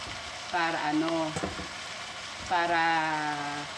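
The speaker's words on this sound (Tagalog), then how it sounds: "Igisa natin mabuti." Vegetables for ginataang gulay sauté in a hot pan with a steady, close sizzle that runs throughout, while a person talks over it in two stretches.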